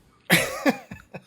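A sharp, harsh throat clearing up close, followed by a few shorter gruff coughs trailing off.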